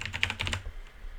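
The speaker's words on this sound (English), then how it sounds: "Gotta make sure I type this in right." A quick burst of about half a dozen keystrokes on a computer keyboard, crisp clicky taps close by during a coding session, followed by a short quiet pause.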